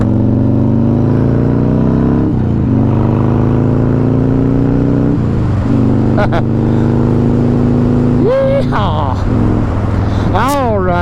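A 1999 Harley-Davidson Dyna Super Glide motorcycle on the road, its engine droning steadily with gear shifts and revving, loud and close throughout, with a brief excited shout near the end.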